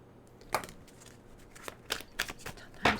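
Tarot cards being shuffled in several short, crisp riffling bursts with quiet pauses between them, close and fairly soft, with no talking.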